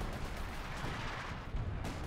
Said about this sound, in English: Artillery's coming in, pushing the Germans back.